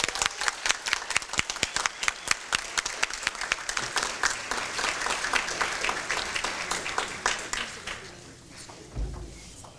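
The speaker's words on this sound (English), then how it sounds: "Let's give them all a big round of applause" Sustained applause from an audience at a Kiwanis awards ceremony, dense clapping that swells and holds steady, then thins toward the end with a low thump.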